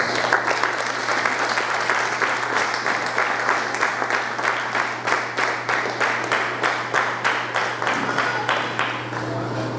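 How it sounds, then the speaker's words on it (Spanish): A church congregation applauds during a sermon, with steady clapping that settles into a rhythmic, evenly spaced beat and a low steady hum underneath. "Dígale un aplauso a Dios."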